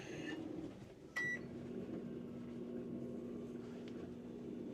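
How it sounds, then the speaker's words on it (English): A steady, faint hum of a microwave oven running on power from a 2025 GMC Sierra EV truck, with a short beep near the start and a constant low drone throughout. "Microwave."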